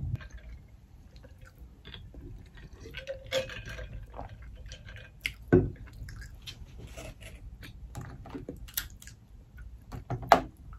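Snow crab legs crack open by hand during a close-up eating session: soft wet crunching and clicking, with a couple of sharper snaps standing out, quiet and near.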